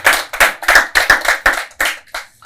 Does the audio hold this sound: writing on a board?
no